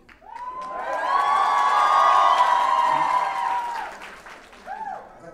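Mostly female audience at the AWPL NU Makeup Mantra product launch lets out a loud, sustained collective shout and cheer that swells for about three seconds, then fades to scattered whoops.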